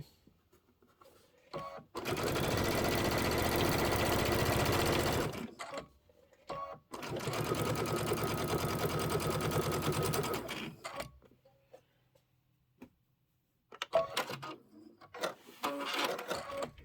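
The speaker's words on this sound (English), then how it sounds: "You don't want to sew that ribbon down from the present." A sewing machine stitches a quilted section in bursts of rapid, even whirring, two long runs followed by shorter ones, close and clear with quiet pauses between.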